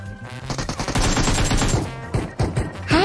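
Loud bursts of rapid gunfire ring out in a shooter video game. The shots come in clustered volleys with short gaps, and a few sharper single cracks come near the end.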